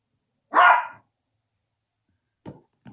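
A dog lets out one loud, close bark, followed after a pause by a couple of softer short woofs in otherwise quiet surroundings.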